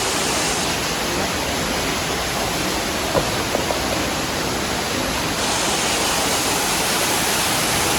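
A waterfall roars steadily at a theme park safari, a loud, unbroken wash of rushing water lasting the whole stretch with no voices.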